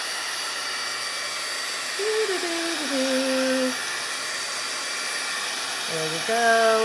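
A small handheld heat dryer blows on a watercolor painting, a steady close whirring hiss that runs throughout with slight pitch shifts as it changes speed, while someone speaks briefly over it.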